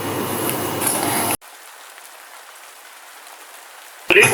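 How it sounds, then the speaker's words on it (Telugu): Steady rain falls in a continuous broadband hiss that cuts abruptly to a much quieter wash, then surges back loudly near the end. "3 రోజుల నుంచి వర్షం ఆగకుండా పడుతూనే ఉంది"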